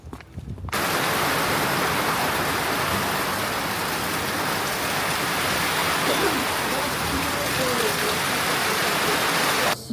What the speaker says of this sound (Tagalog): Biglang bumuhos yung malakas na ulan